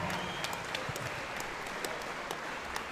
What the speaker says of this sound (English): round of applause, both boxers a gallant 10-round eliminator